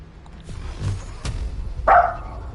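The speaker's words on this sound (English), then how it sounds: "I heard barking out the window." A dog barks outside a window, giving a few sharp, separate barks spaced through a short stretch, the last one the loudest. It is moderately close, with no talk over it.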